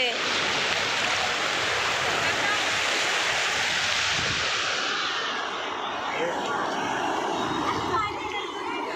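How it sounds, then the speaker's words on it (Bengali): A continuous roar of sea surf and wind rushes throughout at sunset in Mumbai, swelling and easing slightly, with faint voices mixed in beneath the wash. "আর এদিকে সমুদ্রের ঢেউ চারিদিকে"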